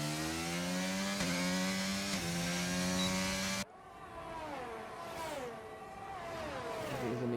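Formula 1 race cars in the video game F1 2022 at the Jeddah circuit, a loud high-pitched engine whine holding steady with gear-shift steps, then cutting to other cars' engines sweeping up and down in pitch as they pass.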